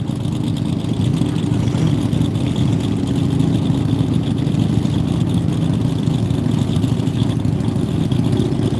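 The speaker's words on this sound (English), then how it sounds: "I'm about to watch this motorcycle run." A loud, steady motorcycle engine drone on a Texas Mile speed run, holding a constant roar throughout, heard from nearby with no pauses.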